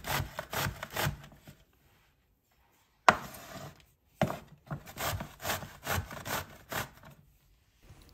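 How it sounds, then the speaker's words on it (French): A courgette being grated by hand, rhythmic close rasping strokes in quick bursts, pausing briefly and then resuming with a sharp scrape and further repeated grating passes. "puis râper la courgette"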